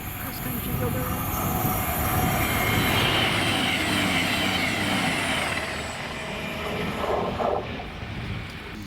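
A CrossCountry class 221 diesel unit on a Glasgow Central service passes through Drem station, a loud continuous rumble of wheels and engine with faint rail squeals near the end.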